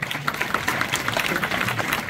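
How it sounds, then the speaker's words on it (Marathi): An audience at a kirtan gathering applauds two students, a busy, even patter of many hands clapping at once, moderately loud and steady. "वाजा दोघांसाठी टाळ्या गावापर्यंत."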